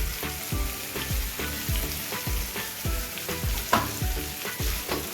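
Coriander powder, cumin, turmeric and Kashmiri chili powder frying in a pan for vegetarian ghugni: a close, continuous sizzle under quick rhythmic stirring strokes, with no voices.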